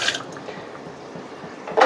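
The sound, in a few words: water poured into chicken soup pot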